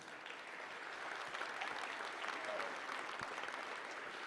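An audience at a conference closing ceremony in Deadwood applauds people in bear costumes, steady dense clapping that swells slightly and sustains throughout.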